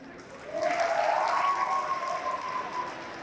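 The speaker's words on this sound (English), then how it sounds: "Give applause for GIFP," An audience at a closing plenary with stand-up comedy claps in a full, steady round of applause that swells after a quieter start, with a faint voice or tone threading through the clapping.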